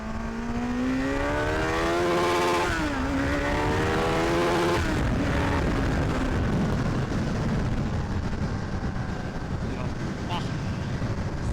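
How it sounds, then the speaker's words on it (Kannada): A Kawasaki motorcycle accelerating hard in first gear, its engine note climbing steadily in pitch, dipping at about three seconds and again near five. Heavy wind buffeting covers much of the sound, and the engine stays close and loud. "ಹೋಗ್ತೀನಿ ಗಾಡಿ ಹೆಂಗೆ ನುಗ್ಗುತ್ತಂತ ಮಾತ್ರ ನೋಡಿ ಫಸ್ಟ್ ಗೇರಲ್ಲಿ"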